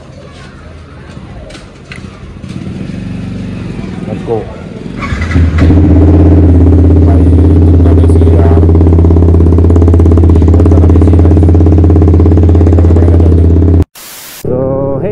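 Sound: Yamaha MT-15 with Akrapovic exhaust revving

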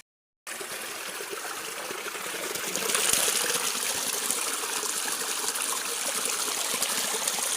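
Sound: clear stream water flowing

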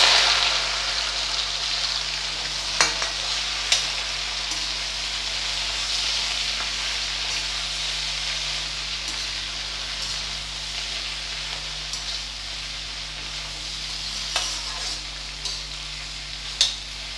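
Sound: okra and asafoetida frying in hot oil

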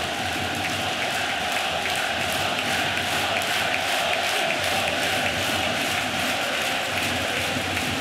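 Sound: Kloten ice hockey home crowd loudly cheering

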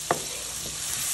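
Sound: stirring onion and garlic frying in a pan

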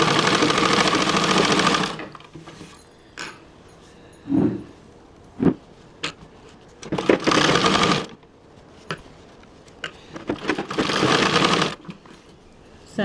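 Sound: sewing machine stitching a blouse

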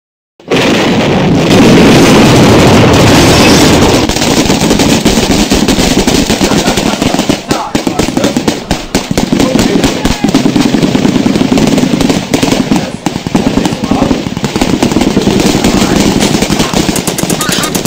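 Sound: gunfire in a war reenactment

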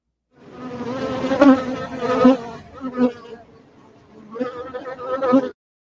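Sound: recording of a fly buzzing in flight

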